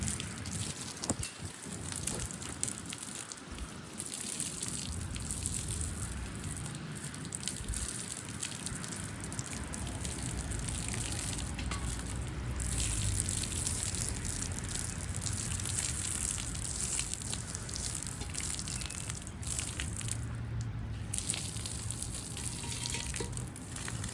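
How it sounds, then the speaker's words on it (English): Boiling water poured over a bicycle chain and drivetrain during chain cleaning before hot waxing: a steady splashing, hissing wash like heavy rain on a surface, close and continuous for the whole stretch with no talk. "All right, I got the boiling water,"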